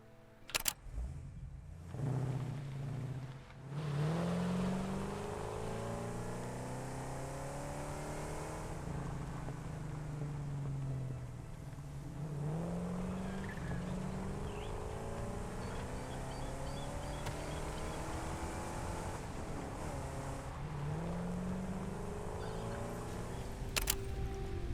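A vehicle in the Satisfactory video game drives along with a steady engine hum and occasional rising revs, moderately quiet, with a sharp click at the start and the end.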